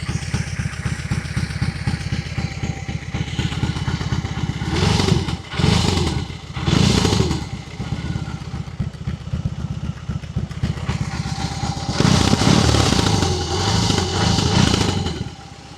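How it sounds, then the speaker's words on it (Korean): Exhaust of a BMW R18 motorcycle just after the engine starts: a steady, throbbing low idle through the muffler, close and continuous, with a couple of brief blips of revving. "우선 머플러 소리 한번 들어봐야죠. 자, 시동 켰어요."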